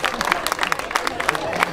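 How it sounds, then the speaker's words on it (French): Brief burst of audience clapping at a triathlon prize ceremony for young athletes, quick uneven claps mixed with crowd murmur. "Merci beaucoup, on les applaudit."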